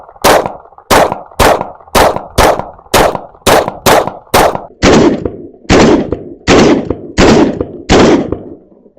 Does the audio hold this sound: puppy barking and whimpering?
no